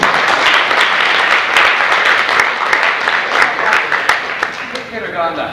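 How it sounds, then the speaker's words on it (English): A high school audience at Edna High School's Project Graduation breaks into sustained applause, dense clapping holding at a steady, loud level throughout with a few sharper claps standing out. "the applause for you"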